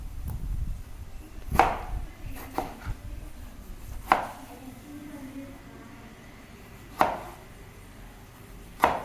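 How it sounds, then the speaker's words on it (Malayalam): A knife cuts through large tomatoes on a board, landing a few separate, sharp chopping strokes spaced seconds apart with quiet gaps between them. "ആ തക്കാളി കട്ട് ചെയ്തെടുത്തു"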